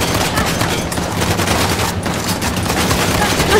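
Gunfire in Uncharted: The Lost Legacy roars in a continuous dense barrage of rapid shots, loud and close, with chaotic combat noise and some talk mixed in.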